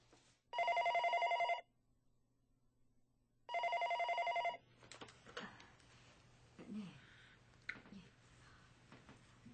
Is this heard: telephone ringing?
yes